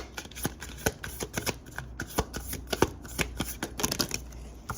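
Tarot shadow cards are shuffled and drawn by hand, giving a run of quick, crisp riffling snaps and taps close up, with no talking.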